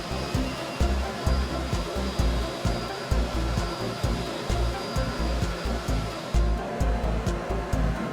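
A milling machine flattens the top of a wooden block, its bit making a steady whirring roar that swells in regular, rhythmic passes, about one each second, as it cuts across the surface.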